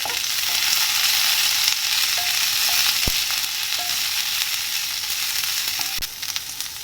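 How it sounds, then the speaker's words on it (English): Finely sliced onions sautéing in a pan with garlic, curry leaves and green chilies for a cabbage spinach stir fry, a steady close sizzle with a few sharp spoon knocks against the pan. "Now I am going to add the finely sliced onions to this."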